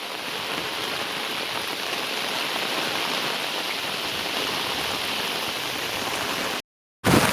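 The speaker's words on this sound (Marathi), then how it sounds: "दुपारपासून आहे ना भरपूर पाऊस लागतोय" Heavy monsoon rain pours down in Konkan, a dense, steady roar of water that stays loud and even for nearly seven seconds before a brief gap of silence, then resumes.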